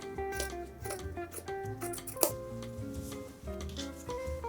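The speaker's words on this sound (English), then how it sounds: "And then just cut along your line." Scissors snip through fabric along a marked line for a sewn bowl cozy, a series of close, crisp cutting clicks at an irregular rhythm, with one sharper snap midway and a soft hum underneath.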